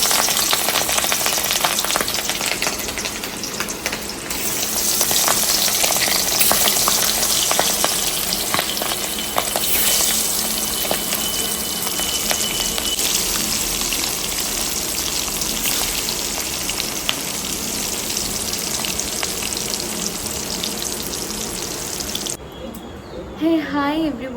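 Hilsa fish frying in a home kitchen pan, a loud continuous sizzle and crackle with some water running, lasting throughout before cutting off near the end.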